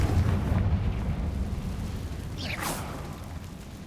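Confringo blasting spell from Hogwarts Legacy bursting with a rumbling explosive roar over a low, sustained rumble, and a rising whoosh streaking through near the end.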